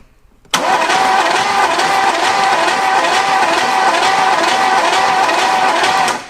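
The engine of a 1960s luxury car, seized for 30 years and now with a stuck valve, cranks on the starter with a sudden onset, then a steady loud rhythmic churning that runs for about six seconds without catching.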